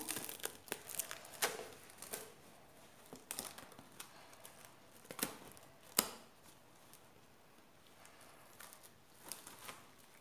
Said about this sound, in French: je vais couvrir de papier film alimentaire